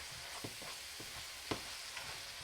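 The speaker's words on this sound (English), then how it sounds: "Mix that together good." Cabbage roll mixture in a bowl-style skillet being stirred, with quiet scraping strokes every half second or so over a low background sizzle, faint and without talk.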